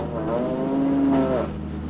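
A dairy cow moos once, a long drawn-out low call that rises at the end, heard clearly over a steady background hum.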